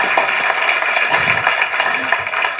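Steady, dense applause from a gathered audience at a social welfare event, honouring a mother; continuous clapping at a fairly even level throughout.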